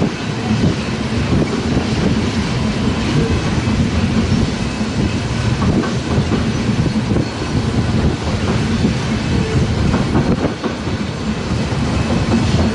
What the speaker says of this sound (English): that's DPU at the end of this train